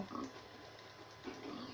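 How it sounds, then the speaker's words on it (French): A pig oinks in the video game Minecraft, two short, faint grunts heard close, spaced about a second apart, with no other sounds. "Viens ici, petit cochon."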